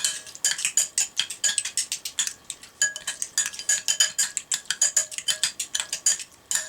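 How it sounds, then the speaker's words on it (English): Spoon scraping and clinking against a bowl while spicy salmon filling is mixed with olive oil, a steady run of quick, close ticking strokes with brief pauses, no talking. "Now let's see if we can just mix all this together"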